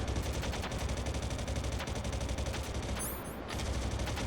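Enemy soldiers in Metal Gear Solid fire their guns together in a dense, nonstop rattle of rapid bursts that stays loud and close throughout, broken briefly by a high metallic whine, with no talk.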